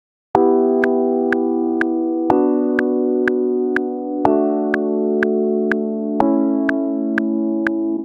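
Synthesizer chords change every two seconds in a slow four-chord progression, each sustained, with a light ticking beat marking the pulse.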